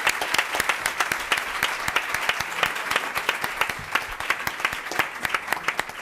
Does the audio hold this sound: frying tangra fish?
no